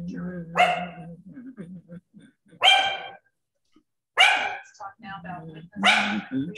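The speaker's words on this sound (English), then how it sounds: "A little yipper dog." A small dog yaps in four sharp, separate bursts spaced about a second and a half apart, close and loud, with low murmuring between the yaps.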